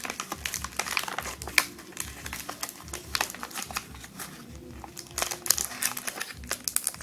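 Paper wrapping inside the package of a Yamaha Mio connecting rod kit crinkles and rustles steadily up close for several seconds while being unfolded, with no talking.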